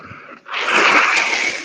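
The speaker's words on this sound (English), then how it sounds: "No, I'm blowing my nose." A short sniff, then a loud, sustained nose blow lasting over a second, close up, with no talking.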